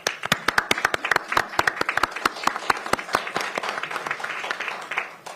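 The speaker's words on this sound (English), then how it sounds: "Let's give them a round of applause." A round of applause at a Pierce County council meeting, with many hands clapping in a dense, steady burst for about five seconds and no talk over it.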